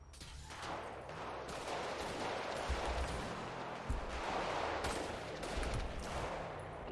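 Rapid automatic gunfire in a GTA roleplay shootout at a movie set rattles on continuously, dense overlapping bursts at moderate distance without pause.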